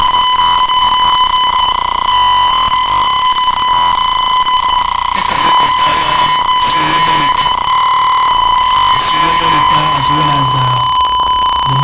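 A simulated buzzer alarm from a Tinkercad Arduino water tank project sounds as a loud, continuous electronic tone with a steady pitch, holding throughout with harsh bursts layered in and a voice talking over it.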